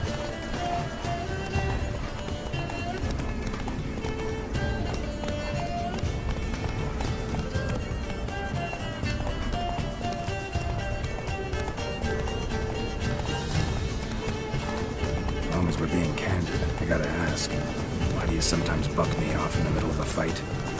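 Roach, Geralt's horse in The Witcher 3: Blood and Wine, gallops steadily with hoofbeats running throughout, layered under game music and people talking.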